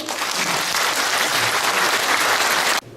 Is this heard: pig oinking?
no